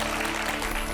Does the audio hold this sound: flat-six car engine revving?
no